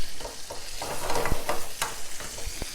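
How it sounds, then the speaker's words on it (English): Steady crackling sizzle of tomatoes frying in hot oil, with scattered sharp pops and a few utensil clicks, close by and continuous. "So the sizzling is the olive oil in with the tomatoes."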